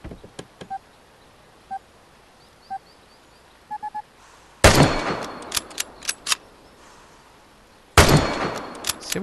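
Gunfire in the video game Vigor during shooting challenges: a few faint clicks, then two loud, sharp bursts of shots several seconds apart, each followed by ringing echoes.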